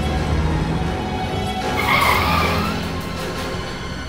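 Car tires skidding and squealing as a car speeds away at night near a haunted village, a broad, loud rush with a brief sharper squeal swelling midway and no talk.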